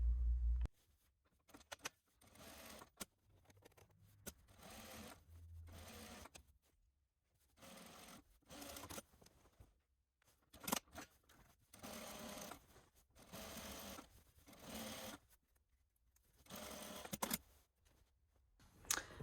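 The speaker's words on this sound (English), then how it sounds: "Now I'm going to top stitch." A sewing machine topstitching a garment yoke runs in repeated short bursts of fast whirring stitches, separated by quiet pauses and small clicks as the fabric is adjusted, close and moderately loud.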